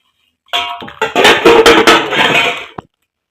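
A spoon clinks and scrapes against a cup while stirring coffee with milk and sugar, a close, bright run of rapid taps and rattles that stops abruptly after a couple of seconds.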